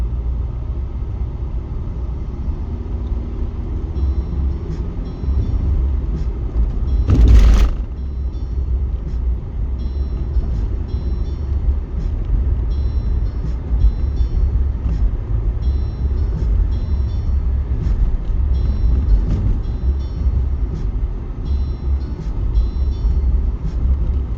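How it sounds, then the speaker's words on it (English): A passing train makes a steady, heavy low rumble that carries through the whole stretch, with one brief louder broadband burst partway through and no voices. "Don't you dare come back this way, train."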